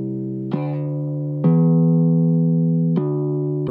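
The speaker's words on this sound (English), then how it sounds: "They'll play it on a bass, and then they'll cut the low frequency with an EQ, and it'll just sound like a very wimpy bass." A VST bass with its low end cut by EQ plays a thin, wimpy line of three sustained notes, each with a sharp attack, plucked-sounding and close with no voices.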